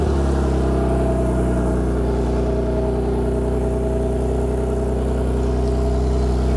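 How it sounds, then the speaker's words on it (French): Turbocharged Porsche GT3 flat-six engine with an aftermarket exhaust, running at a steady low, rumbling drone with strong bass throughout, loud and close, no one speaking. "je vais vous faire écouter un petit peu ce Flat 6"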